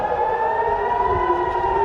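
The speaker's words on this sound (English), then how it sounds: "air raid sirens sounded and lightning strikes were seen in the sky near an oil refinery" Air raid sirens wail near an oil refinery in Haifa, Israel: a steady, loud, sustained tone with layered pitches holding level throughout, with no voices.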